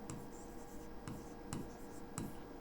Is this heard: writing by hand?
yes